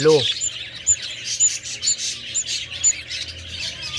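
Parakeets in a breeding box chirp in quick, high, repeated calls, close by, with a brief low voice at the start.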